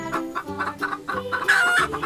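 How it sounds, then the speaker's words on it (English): A hen clucks in a steady run of short, harmonic calls spaced evenly apart, close and fairly loud, with a sharper, brighter cackle near the end and no talking. "Say with me, hen."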